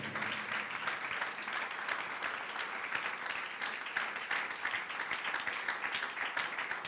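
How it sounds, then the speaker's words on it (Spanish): A church congregation applauds the Lord, a dense, sustained burst of many hands clapping that stays even and moderately loud, heard from a little distance without speech. "¿Cuántos le dan un fuerte aplauso al Señor?"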